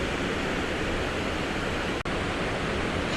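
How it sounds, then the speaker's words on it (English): Waterfalls pouring down the side of a mountain below a dam, a loud, dense, continuous roar of rushing water with one brief dropout, no voices. "So these waterfalls started to form along the side of this mountain after the dam was built."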